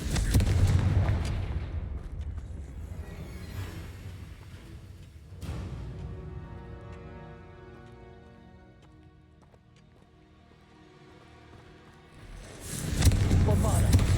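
Spell blasts from Hogwarts Legacy combat, with a heavy burst at the start, another partway through and a loud blast at the end, separated by quieter rumbling stretches.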